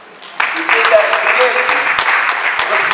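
An audience at a women's empowerment event in Lagos bursts into applause after a short quiet lead-in, then keeps up dense, moderately loud clapping while a voice carries on faintly beneath it.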